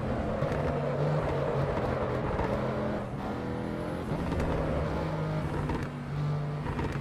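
Car engine in the Assetto Corsa Evo racing game, a steady droning motor hum held at moderate level throughout with slight pitch shifts as it revs.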